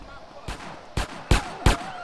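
Four sharp gunshots in GTA San Andreas during a gang riot, evenly spaced and loud, over a low background of game noise.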